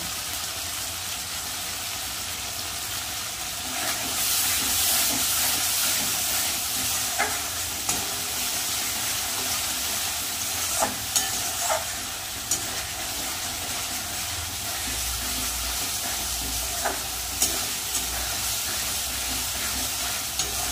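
Masala with turmeric and salt stir-fried in oil for a jackfruit curry, a continuous sizzling hiss with occasional scrapes and clinks of the spoon against the pan, steady and close.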